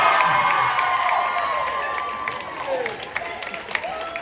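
A comedy club audience cheers, whoops and claps loudly, the noise trailing off gradually into scattered shouts and claps, with voices mixed throughout.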